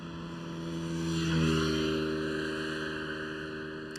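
A German Airways Embraer E190 jet at Amsterdam Schiphol airport, a steady engine roar that swells to a peak and then slowly fades, heard from a distance with no talking.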